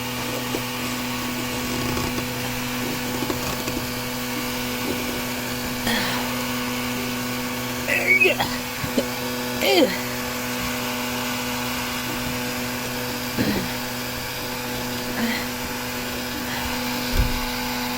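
A heat gun blows with a constant whirring drone while warming a fresh water hose, joined now and then by a few soft knocks and handling bumps.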